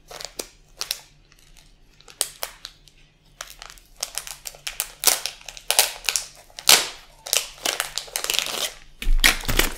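Plastic packaging around a hair comb is torn open and crinkled in close, busy bursts of crackling, snapping and rustling that go on for about ten seconds, with a heavier crunch near the end.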